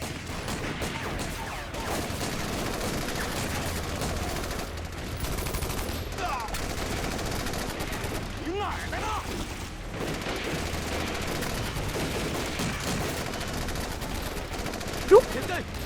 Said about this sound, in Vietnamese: Sao ở đây lại có bắn tỉa?